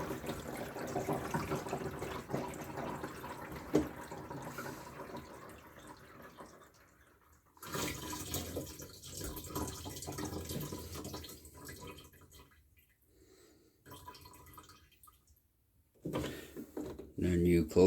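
A Dometic SaniPottie 976 portable toilet flushes with a quiet, drawn-out rush of water that runs for several seconds. It returns in further washing bursts, separated by short silent gaps.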